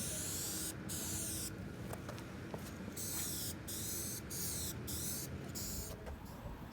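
An aerosol spray can hisses in repeated bursts as paint goes onto a rear bumper splash guard for a G35 Coupe, short gaps separating the passes; steady, close and moderately loud, with no talking.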